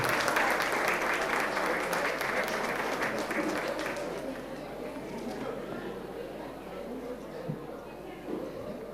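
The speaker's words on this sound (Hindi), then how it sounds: "जोरदार तालियां।" A crowd at a Guru Purnima function applauding steadily, then the clapping thins and fades into murmuring room noise by the second half.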